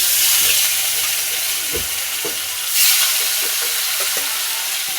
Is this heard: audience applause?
no